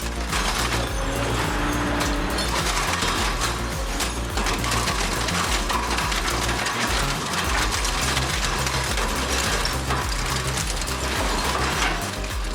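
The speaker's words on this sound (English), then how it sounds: "The power behind that lies in the primary shredder VB950DK." Industrial twin-shaft primary shredder VB950DK crushing metal such as engine blocks, a loud, continuous grinding clatter of gears and ratcheting metal with no pauses.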